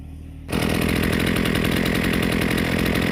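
A Husqvarna 323L string trimmer engine, its carburetor freshly adjusted, starts up after a quiet half second and then runs steadily and loudly at a constant rough buzz with no speech.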